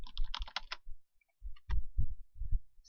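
Quick burst of computer keyboard clicks while typing a shortcut, a cluster of sharp taps followed by a pause and a few softer, duller key presses, close and alone.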